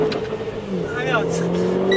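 A Renault Clio 4 RS 200 EDC pulls away under launch control, its engine note climbing steadily and loud from inside the cabin, while people talk over the sound.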